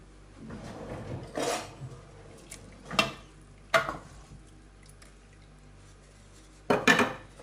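A pressure cooker lid being handled and shut in a home kitchen while a kebab dish cooks: a few sharp metallic clanks and clatters come close up, separated by quiet gaps.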